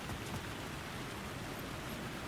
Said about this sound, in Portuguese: Ixi, tá chovendo agora